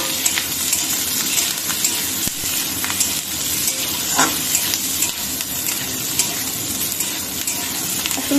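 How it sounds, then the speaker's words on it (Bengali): Peanuts and boiled potato being stirred with sabudana in a pan, giving a continuous sizzle with scraping, clinking stirs scattered through it, close and fairly loud, with no talking. "এই যে এখন সুন্দর করে নাড়াচাড়া করে নেব।"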